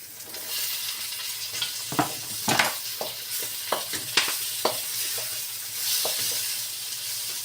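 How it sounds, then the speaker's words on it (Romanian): Tomatoes sizzle steadily in olive oil in a hot pan while a utensil stirs and scrapes at irregular moments; no one talks. "Și prăjim roșiile"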